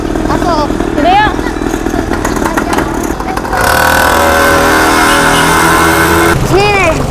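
A motorcycle engine starts and revs loudly up close, its harsh drone rising in pitch, with people talking over it at the start of an informal motorcycle race.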